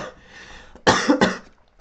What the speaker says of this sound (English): I'm getting coughs just watching from this.